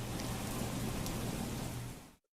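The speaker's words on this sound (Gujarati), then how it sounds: "ધોધમાર વરસાદ વરસી રહ્યો છે" Heavy rain pours down in Porbandar, Gujarat, during flooding, a dense, even hiss that holds steady, then stops abruptly.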